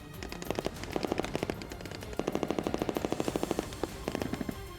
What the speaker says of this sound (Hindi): नेवी के जवानों ने समंदर में गोलियां बरसाकर दुश्मन को चेतावनी दी